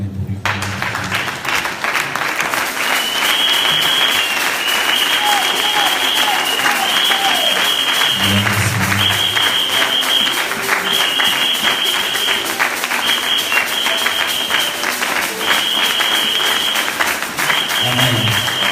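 Church congregation applauding steadily and loudly throughout a worship service in Paris, a dense sustained wash of clapping with a few voices cheering faintly beneath it.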